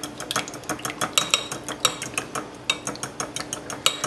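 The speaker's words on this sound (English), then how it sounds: "And we're going to whisk that together." Milk and eggs are whisked together in a bowl, with a fast, steady run of close metallic clicks and taps from the whisk against the bowl, sounding alone.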